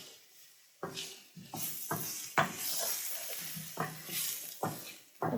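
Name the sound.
onion frying in a pan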